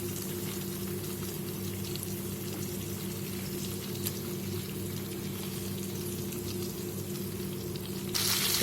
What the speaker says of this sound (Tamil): இதுவும் ஒரு 5 மினிட்ஸ் நல்லா ஃப்ரை ஆகட்டும்